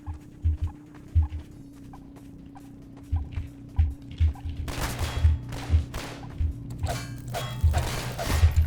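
Gunfire in the game Half-Life 2: Episode One comes as sharp thuds and bursts, sparse at first, then denser, louder cracking volleys in the second half over a low mechanical hum.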